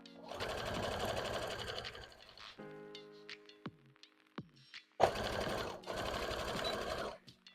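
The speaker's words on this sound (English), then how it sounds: "So now we're just gonna sew all these." A sewing machine stitches in two loud rapid whirring runs, separated by a pause filled with clicks, snaps and short squeaks as the fabric is adjusted, then one final burst.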